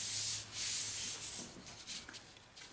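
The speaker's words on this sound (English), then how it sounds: "Close it, and I just like to give it a little rub, and then the glue will take effect." A hand rubs firmly over a folded paper card to set the glue, giving a soft, steady scratchy friction close by with slight pulses, alone with no talk.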